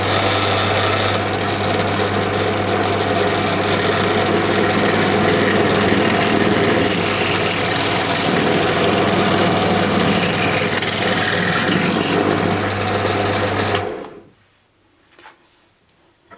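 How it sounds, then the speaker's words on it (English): A power drill boring into wooden pieces: a loud, continuous whining drone with a steady low hum runs for about fourteen seconds, then cuts off, leaving near silence with a few faint small clicks. "Now I've drilled my wooden bits"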